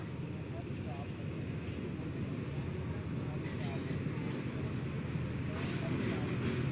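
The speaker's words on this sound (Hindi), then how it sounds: "रेलगाड़ी आ गई है कराची से और ये जाएगी लाहौर।" A train rumbles steadily into Haveli Lakha station at night, a low continuous roll with faint clanks and hiss, a voice speaking over it partway through.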